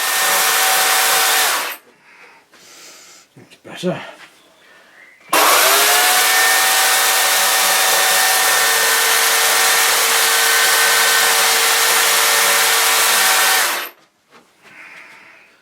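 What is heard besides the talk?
chainsaw carving oak wood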